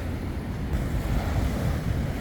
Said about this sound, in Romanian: Suntem pe plaja Melasti Beach, la circa 30 de minute de Uluwatu